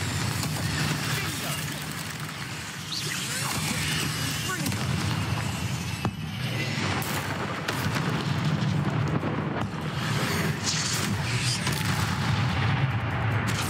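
Spell blasts and explosive booms from the Confringo fire spell in Hogwarts Legacy, repeated amid continuous dense game noise while a voice keeps calling out spell names throughout.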